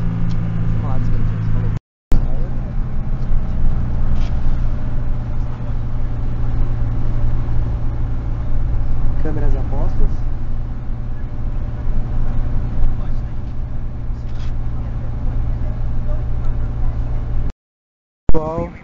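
A bus climbs up Mt Ruapehu, its engine droning in a steady, loud, continuous rumble, with people talking in the cabin and two brief cuts to silence.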